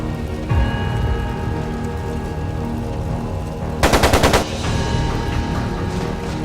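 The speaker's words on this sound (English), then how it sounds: "It sounded like a machine gun." Machine gun fire in the Trails of Cold Steel II video game: a short, loud rapid burst of about five shots cutting through a steady rumbling, crackling background.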